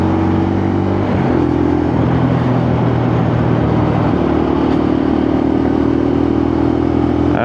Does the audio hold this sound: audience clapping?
no